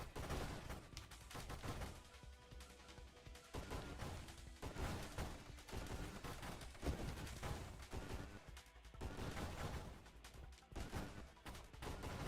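Burst-fire weapon shots in a video game, dense rapid cracks and bursts repeating through the whole stretch alongside game effects, loud and continuous without talk.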